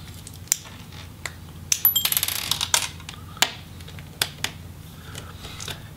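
Small screws come out of a MacBook Pro A1398 2014 laptop with a Torx driver: sparse sharp clicks and tiny metallic ticks, a brief cluster of rattling taps midway, close and alone.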